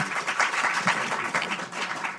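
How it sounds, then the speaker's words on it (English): An audience at a panel event on the fentanyl epidemic gives Mayor de Blasio a steady round of applause, a dense, continuous patter of many hands that fills the room without pause. "Please give a round of applause to Mayor de Blasio"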